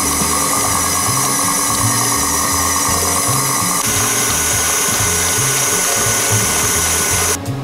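Electric mixer beating macaron batter with butter, a steady loud motor whir with a rhythmic pulsing churn as the beaters turn through the mixture, running continuously without talk.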